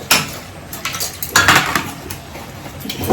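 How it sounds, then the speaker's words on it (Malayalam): Dishes, pots and utensils being washed at a home sink, with clattering metal knocks and clinks, a few sharp hits among softer scraping and water movement, close by. "ഇനി കുറച്ച് പാത്രമുള്ളത് കഴുകി വെക്കാം ഗൈസ്"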